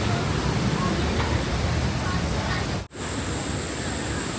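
Waterfall at Paronella Park heard as a constant broad rushing roar close by, loud and unbroken apart from one brief dropout.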